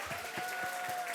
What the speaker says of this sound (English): can you give me a round of applause?